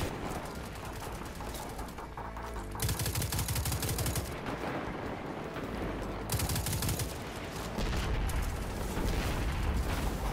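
Gunfire during a fight against a Vex spider tank in Destiny 2, dense automatic bursts mixed with heavy mechanical booms, loud and continuous in alternating waves.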